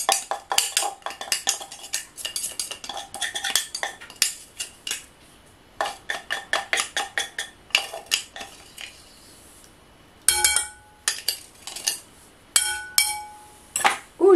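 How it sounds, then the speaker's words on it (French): Metal spatula scraping and clinking against a bowl while mixing chopped herbs into fresh cheese, a quick run of repeated strokes with short pauses and a few sharper knocks near the end. "on va le mélanger avec la spatule, cette fois-ci"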